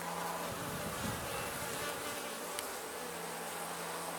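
Honeybees, drones among them, hum continuously around a struggling hive on a warm mid-September day in Ontario, a soft, even buzz close by with no talking.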